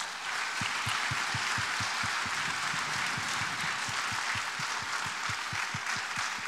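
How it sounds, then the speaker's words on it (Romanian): Concert audience gives sustained, even applause after a traditional Romanian carol performance, a dense wash of many hands clapping at moderate distance with no talk. "Aplauze încă o dată!"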